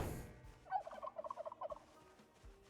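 A rapid, bubbling run of turkey gobbles from Project Zomboid, moderately close and clear over faint game ambience, with no talking.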